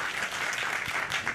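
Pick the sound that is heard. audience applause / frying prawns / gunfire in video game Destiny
audience applause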